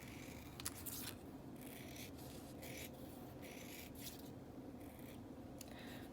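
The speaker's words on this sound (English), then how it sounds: "You want to cut very thin strips." Scissors snip thin fringe strips into paper for a handmade paper flower, giving quiet, repeated crisp cutting strokes at close range in a soft, steady rhythm with no talking.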